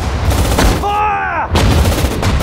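Heavy gunfire in the World War II desert battle game Sudden Strike 4 at El Alamein, loud booming shots on either side of a short ringing tonal burst, dense and close.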